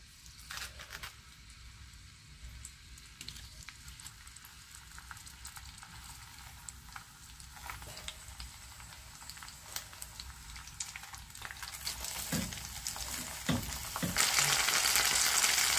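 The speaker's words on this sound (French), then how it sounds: "on va le poser dans l'huile bien chaude" A green cabbage lowered into very hot oil to char sizzles quietly at first, then the frying grows louder with crackles and pops and swells into a strong, bright sizzle near the end.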